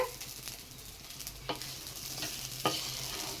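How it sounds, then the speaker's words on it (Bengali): Rice fries with turmeric in a pan for basanti polao, a faint soft sizzle broken by a few sharp scraping strokes of a spatula stirring the grains, heard close up and without talk. "হলুদটা দিয়ে আরও একটু ভেজে নেব চালটা অনেকটাই ভাজা হয়ে গেছে"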